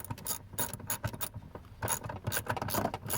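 A ratchet snugs down bolts on the airbag module of a 2006-2016 Chevrolet Impala, giving quick close clicking strokes in short irregular bursts with no talk.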